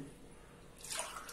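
Water poured into a kadhai or pot to set up steaming for besan dhokla: a quiet room, then a brief, faint splashing pour near the end.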